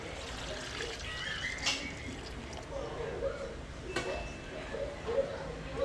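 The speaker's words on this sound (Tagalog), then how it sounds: "Maglalagay na po tayo ng sabaw." Chicken broth is poured into a pot of pancit in a home kitchen, a soft continuous trickle and splash heard beneath people talking.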